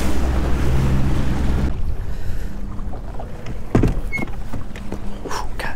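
A Bass Tracker 190TX bass boat pounds through big waves on Lake Saint Clair, with a loud, steady wash of engine and water roar that drops off sharply, followed by intermittent splashes and hull slaps.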